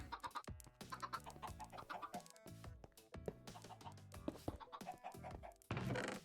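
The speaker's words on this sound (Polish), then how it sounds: "Nie no, kury." Several chickens cluck in short, overlapping bursts in the video game StoneBlock 4, fairly faint, with occasional sharper squawks toward the end.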